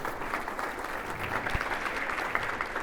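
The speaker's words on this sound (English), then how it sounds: "Let's give her a round of applause" Steady applause from a summit audience for a student speaker, a continuous even patter of many hands at moderate distance, with no voices standing out.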